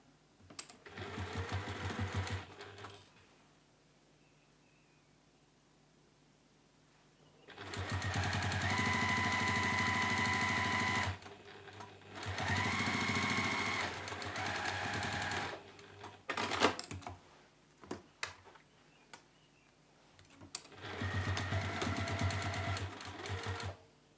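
A sewing machine stitches along the sides of a fabric bookmark in several separate runs of steady, loud mechanical whirring, with quiet pauses between bursts.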